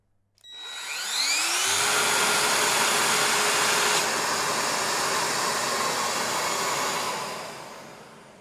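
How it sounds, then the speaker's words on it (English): A vacuum cleaner, switched on automatically by starting a cordless power tool, spins up with a rising whine and then roars steadily and loudly for several seconds before tapering down. "we also can start the vacuum cleaner automatically by starting the cordless power tool."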